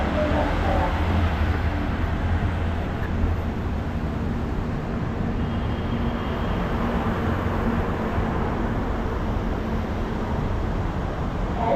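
Steady loud rumble of a metro rail train in a station, a continuous low roar filling the whole stretch with people talking over it.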